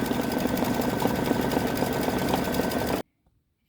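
Embroidery sewing machine finishing a filled Easter bunny gnome design, a fast, dense, steady stitching chatter close by that stops abruptly, leaving silence.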